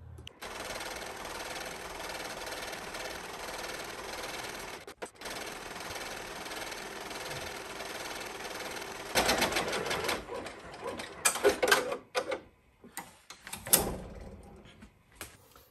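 An embroidery machine quilting stitches on an in-the-hoop pot holder, a steady, fast mechanical whirring chatter that runs continuously for several seconds, then breaks into uneven clattering bursts and pauses near the end.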